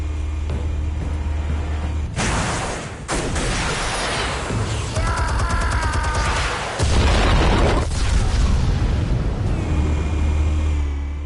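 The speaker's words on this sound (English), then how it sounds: "Explosives armed. Fire when ready." Explosives detonating in a Batman video game, with deep booming blasts and a low rumble that surge several times across the stretch, set among mechanical game noises.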